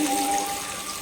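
Tamarind water poured into a pan of fish curry, a short steady liquid trickle and splash heard up close with no talking.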